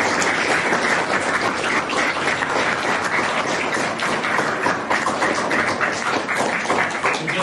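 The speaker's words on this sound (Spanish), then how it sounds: "Les damos un aplauso a doña Coco." Steady, dense applause from a congregation after a Mass celebrating a family anniversary, continuous clapping of even loudness from start to finish.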